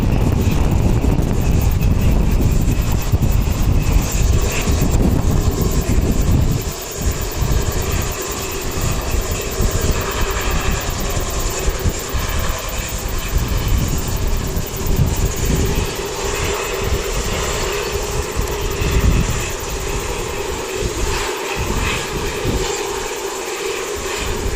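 A Sounds Air aircraft at Wellington Airport produces a loud, continuous engine roar with heavy low rumble, steady at first, then fluctuating and gusty as it passes.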